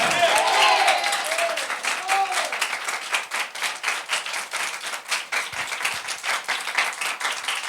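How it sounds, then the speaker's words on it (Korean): A church congregation applauding together during a worship service, dense clapping that rises and then settles into a steady rhythmic beat, with voices faintly mixed in. "우리 하나님께 박수로 영광 돌리겠습니다"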